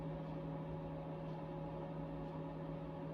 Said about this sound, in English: That's my space heater, because this room can be very cold in the winter.